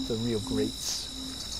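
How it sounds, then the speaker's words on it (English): Carolina ground crickets, bush katydids and tree crickets trill and chirp steadily together as a dense insect chorus, with a voice talking briefly over the start. "We've got Carolina ground crickets, bush katydids, tree crickets, and a whole distinguished ensemble."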